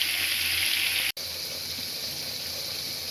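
Shrimp fry in hot oil in a pan, a loud, even hiss that holds steady apart from one brief dropout near the middle, with no voices.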